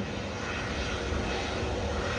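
Jetstar Airbus A320 jet engines roaring steadily at Sydney airport, a broad continuous rushing noise heard from a distance and unbroken for the whole stretch, with no voices.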